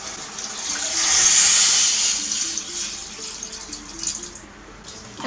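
Water poured into a pot for vegan pumpkin soup with bay leaves, a steady splashing, gurgling stream that swells early and then settles into a lighter trickle, close and alone.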